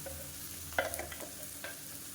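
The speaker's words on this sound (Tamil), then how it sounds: "லேசாக பரட்டி விட்டுட்டு நம்ம துருவி வச்சுருக்க இந்த காலிஃப்ளவரை இதோட சேர்த்துக்கலாம்" Grated cauliflower stir-fried in a hot pan, a steady soft sizzle broken by a few sharp scrapes of the spatula as it is tossed, close and alone.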